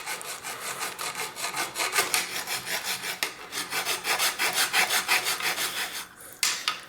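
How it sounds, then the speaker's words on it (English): Hand file rasping metal from the inside edge of a bicycle axle dropout, steady back-and-forth strokes in a close, bright scraping rhythm, about a dozen passes with a brief pause near the end. "I'm going to just take a file here and just lightly just take just a little bit of metal off there on the inside edge there."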